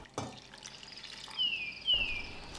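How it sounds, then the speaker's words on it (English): Palm jaggery water being poured through a strainer in a kitchen, a soft trickling and dripping of liquid with a couple of brief pouring surges, fairly quiet and close. "then I'm going to strain the palm jaggery water to remove any impurities"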